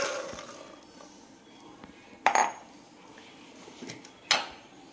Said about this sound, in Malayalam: ഇനി കടല അതിലേക്ക് ഇട്ട് കൊടുക്കാം.